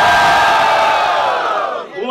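A live rap battle crowd cheers and shouts loudly in a dense, roaring wall of voices that holds steady, then thins and fades near the end.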